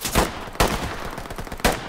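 Gunfire in the tactical police shooter Ready Or Not: three sharp, loud shots spaced irregularly, with a rattling tail between them and no talk over them.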